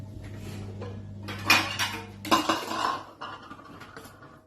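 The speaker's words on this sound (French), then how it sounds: "On va égoutter maintenant les courgettes." Cooking pots and utensils clatter while courgettes are drained in a home kitchen: a few sharp metallic clanks and clinks, close and loud, scattered over quiet background.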